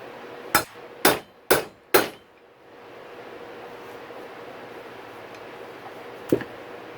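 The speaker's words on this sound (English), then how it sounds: "Let me get the heavier hammer." Four heavy hammer blows ring out on a steel steering stem bearing of a dirt bike, evenly spaced and loud, followed by a quiet pause and one lighter strike near the end.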